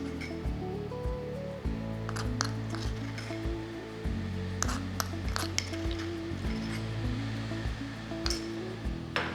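Ghee heating in a pan for tempering a parippu curry, a low hissing sizzle with repeated clinks and scrapes of a utensil against the pan, close by.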